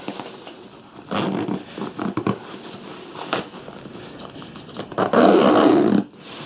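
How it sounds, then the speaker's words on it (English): A zipper is drawn along a Cabin Max travel bag packed with a towel and laptop, giving several short rasping pulls with pauses between them and a longer, louder pull near the end, close and with no talk. "So let's zip this up and see if it's any easier to zip up."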